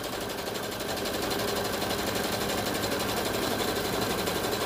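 A flatbed embroidery sewing machine stitches a potholder with a steady, fast needle rattle that runs loud and unbroken from start to finish.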